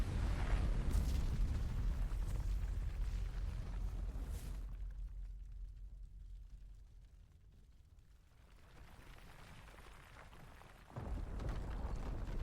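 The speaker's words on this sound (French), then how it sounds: "Bombe nucléaire." Nuclear bomb-like explosion in Final Fantasy XVI: a heavy, booming rumble that fades into a near-silent lull, then a second deep burst slams back in near the end.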